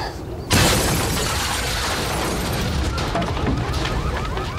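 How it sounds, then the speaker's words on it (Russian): A sudden loud blast after a brief quiet moment, followed by a sustained roar of crashing and rumbling debris. "Что за взрыв?"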